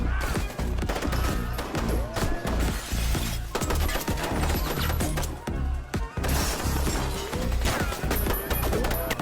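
Submachine gun fire in a police raid shootout inside a restaurant in a movie, dense rapid bursts of loud shots and crashes filling the scene with brief pauses.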